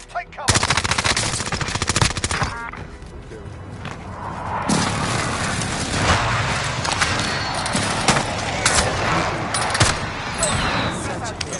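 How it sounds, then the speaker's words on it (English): Call of Duty: Warzone battle with a precision airstrike and gunfire: loud sustained machine-gun bursts up front, then heavy booming impacts and a continuing rumble with more shots over about eleven seconds, voices mixed in. "Enemy precision airstrike."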